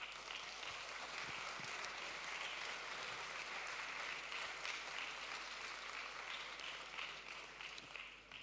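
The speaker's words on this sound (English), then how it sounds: "So a round of applause for our speakers today." A conference audience applauding its speakers, steady dense clapping from a full room that holds even and moderately distant for the whole stretch, with no voices standing out.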